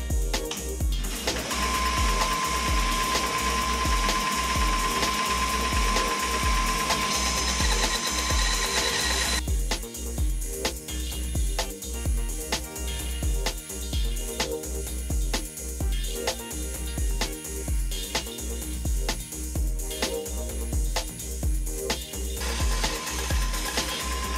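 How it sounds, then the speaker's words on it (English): A bandsaw rough cuts a craw jig prototype, its steady loud whine running continuously throughout, with a brighter high-pitched cutting tone for the first stretch before the blade load shifts. "So to the bandsaw. Just gonna rough cut this out."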